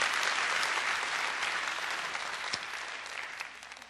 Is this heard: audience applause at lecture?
yes